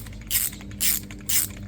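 A ratchet wrench cranks a socket while fitting rear bump stops on a Mini Cooper S F56: three quick rasping clicking bursts, close and evenly spaced, with no talk.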